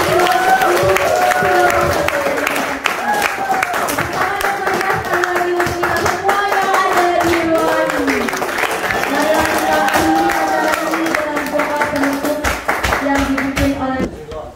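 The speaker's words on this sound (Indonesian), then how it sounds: "Berikan tepuk tangan yang meriah untuk" A school hall audience at SMA Negeri 1 Longbagun gives loud, sustained applause after the student council candidate debate. Dense clapping runs the whole time, with voices and cheering mixed in.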